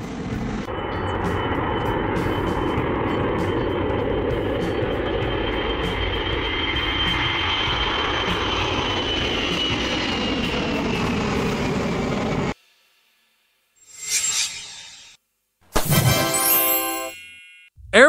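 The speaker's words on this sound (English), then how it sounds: "This is the Airbus A340-600, unveiled in 2001 in Europe" Airbus A340-600 jet engines roar loudly and steadily for about twelve seconds, then cut off abruptly, followed by a few short bursts of chiming, clanging sound.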